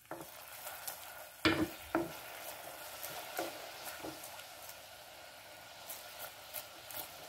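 Palm sugar melting with vinegar in a pan over low heat gives a faint, steady sizzle, broken by a few soft clinks and stirring scrapes near the start.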